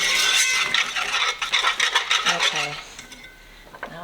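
Flour being stirred into gravy in a pan, a busy run of scraping, clinking utensil strokes against metal, close and fairly loud, thinning out toward the end with a faint simmer beneath.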